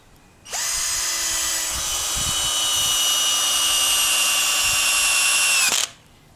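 A cordless drill whines steadily at high pitch for several seconds, close and loud, driving a screw into hardwood, then cuts off abruptly.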